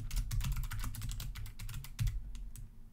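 Rapid, uneven clicking of keys on a computer keyboard, close and fairly loud, runs continuously with short pauses, no voices over it.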